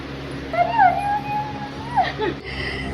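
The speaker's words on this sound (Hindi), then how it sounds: "छोटा है मेरा कुत्ता" A small pet dog whimpers in thin, rising whines that come and go over a low background hum. A short yip or squeak follows near the end.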